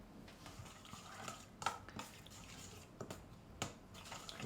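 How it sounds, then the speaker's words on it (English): A spoon stirs a sauce of salt, black pepper and dark soy sauce in a bowl, with soft, irregular clinks and wet scrapes, faint and close, with no talk. "Give the sauce a good mix."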